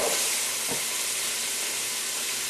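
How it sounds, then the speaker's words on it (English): Onions sizzle in hot oil alongside sausage in a pan, a dense, even hiss held close throughout with a faint clatter early on. "Put in onions."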